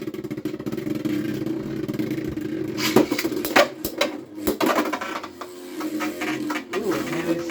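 Beyblades Dran Dagger and Hells Chain battle at a Beyblade Day battle fest: a steady whirring spin punctuated by a flurry of sharp metallic clashes and clicks midway, then spinning continues.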